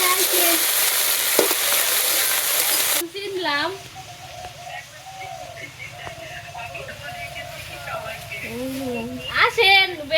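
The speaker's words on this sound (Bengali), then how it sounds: "আমার লাল শাক চারটা শাক ভাজা হয়েছে মানে নামিয়ে নেই" Red amaranth greens fry and are stirred in a pan with a loud, close sizzle for the first few seconds. Then a person talks over a much quieter frying hiss.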